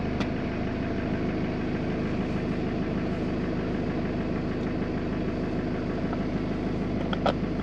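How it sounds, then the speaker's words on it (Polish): A BMW B47 diesel engine idles steadily after repair of a fuel line fault, a close, even low hum with a faint knocking texture and occasional small clicks, no talking. "uruchamiam silnik"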